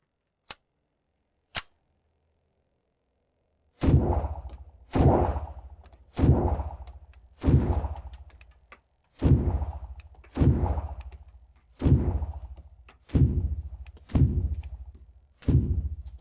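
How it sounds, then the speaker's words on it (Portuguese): Bernardelli P-One pistol shots: two sharp isolated cracks, then a steady string of about ten loud reports evenly spaced roughly a second apart, each with a short ringing tail. "Atiramos e tentamos de novo."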